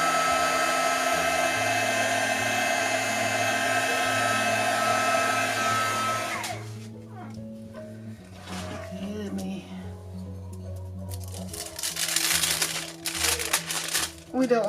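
A heat tool blows with a steady loud whoosh for about six seconds while melting embossing powder on a junk journal page, then shuts off, leaving crinkling and handling noises as someone talks.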